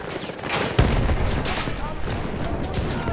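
Rapid bursts of machine-gun fire in the Battlefield game during an assault on Amiens, loud and dense, with a sharp blast near the start and continuous battle noise throughout.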